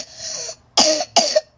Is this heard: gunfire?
no